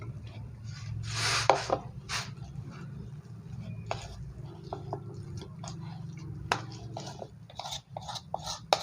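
Corned beef with seasoning is stirred in a pan: soft scraping and squishy stirring strokes arrive in an irregular rhythm over a low steady hum, fairly quiet and close.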